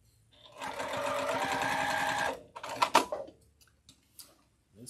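A sewing machine runs steadily for a couple of seconds, a fast mechanical whirr, then stops, followed by a few clicks and knocks.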